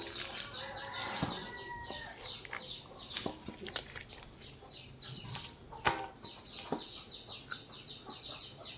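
A live village chicken clucks and flaps its wings in an outdoor rural setting, with birds chirping and scattered rustling around it at moderate distance.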